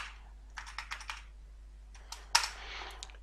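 Bursts of JavaScript code being typed on a computer keyboard: two quick clusters of close, crisp key clicks separated by a pause, moderately loud with no talking.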